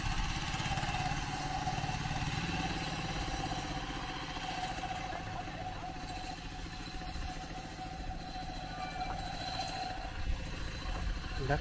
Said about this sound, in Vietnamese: người ta đang khoan